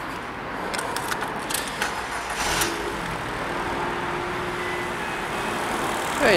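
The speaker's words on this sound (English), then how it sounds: "I'll just start the car for you so I can hear it running." A 2009 Ford Fiesta 1.25 Zetec petrol engine cranks briefly, catches and settles into a steady, even idle that runs to the end, heard close without any talking.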